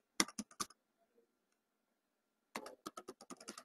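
Keystrokes on a computer keyboard as a command is typed at a prompt: three quick taps, a pause of near silence, then a steady run of about ten crisp clicks, close and clear with no talking.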